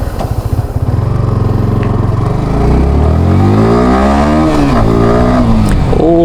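A Yamaha R15M motorcycle engine revs loud and close, its pitch climbing steadily through a long rising sweep and holding high at the end.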